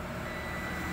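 Continuity tester beeping steadily while an Isuzu D-Max 3.0 stator is checked for breaks, a continuous electronic tone held close and loud for the whole second.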